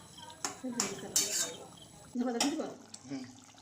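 Stirring river crab curry with potatoes and chopped coriander leaves in a pot, a few scraping, clattering passes of the spoon close by, with soft background voices in between.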